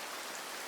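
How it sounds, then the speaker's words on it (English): Rain patters on window glass in a steady, soft, dense hiss with close, sharp droplet detail and no voices. "You may be able to hear the rain on the glass, a different sound from rain on the roof."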